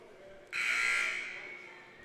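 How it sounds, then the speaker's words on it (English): A single harsh electronic buzzer blares for about a second at a high school girls basketball game, bright and raspy, then fades against quiet room noise. "Buzzer sounds"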